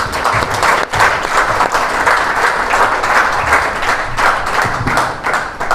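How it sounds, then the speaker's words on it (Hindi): A congregation claps together at a Hindi-language religious gathering, loud, close and continuous dense applause with a brief dip near the first second, heard alone without talk. "आमेन, तालियां बजाएं."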